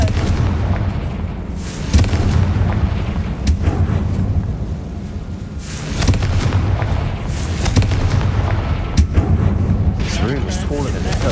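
Confringo fire-spell explosions in the Hogwarts Legacy video game: repeated loud booming blasts and crackling impacts through a tomb, with a continuous dense rumble between them.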